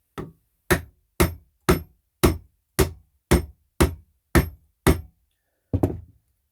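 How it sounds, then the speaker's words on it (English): A woodworking chisel is struck down into wood to cut a mortise: ten sharp, evenly spaced knocks, then a brief pause and one final blow, loud and close with no voices. "make sure your chisel is upright when you're smacking down"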